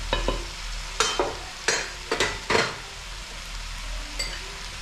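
Village-style broiler chicken curry fries in a pan while salt and chili are stirred in. A continuous sizzle runs under roughly six distinct, close scraping stirs of the spoon against the pan, with no voices.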